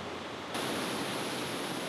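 Mountain stream in the Rwenzori tropical rainforest of Uganda, heard as a dense, steady rushing roar of flowing water, close and constant with no voices.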